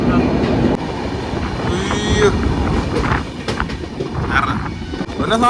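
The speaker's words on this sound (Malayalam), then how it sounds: "ട്രെയിൻ അത്യാവശ്യം ഫാസ്റ്റ് ആയിട്ടാ പോകുന്നത്" A fast train rushes through a tunnel with a dense, roaring rumble and metallic rattles, loud and enclosed, with occasional voices faintly under it.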